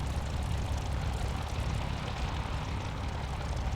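Curtiss P-40F Warhawk engine running steadily in a flight simulator game, a dense continuous low propeller-engine drone with no break, loud and close throughout.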